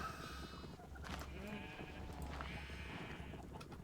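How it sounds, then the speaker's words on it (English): Minecraft sheep bleat repeatedly in a farm contraption, several wavering calls overlapping with a steady low machine hum, quiet and even throughout. "Sheep eat the wheat, fall through the hole."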